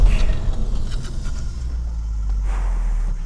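A car in a braking test accelerates hard and then stops. It gives a loud, close, low engine rumble with a brief scraping edge as it slows, and no talking.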